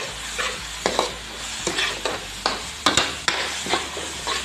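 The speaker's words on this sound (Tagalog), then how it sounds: "ginisa ko na yung sibuyas at saka yung bawang" Onion and garlic sautéing in a little oil in a pan, with a steady close sizzle broken by repeated clinks and scrapes of stirring, no voices.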